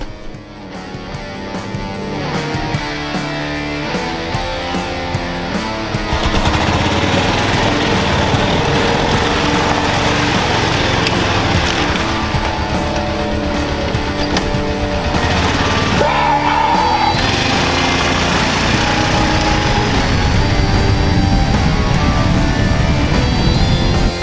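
A 2005 Honda Rincon 650 ATV engine idling steadily nearby after an oil change, a constant loud mechanical drone with a slight rise in level partway through.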